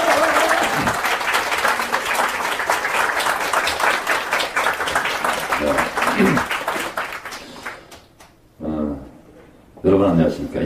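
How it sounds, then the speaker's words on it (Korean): Audience applause at a lecture event in a pub-style venue, a dense sustained roar of clapping from a large indoor crowd that fades out after about seven seconds, followed by a speaker's voice. "박수 부탁드립니다."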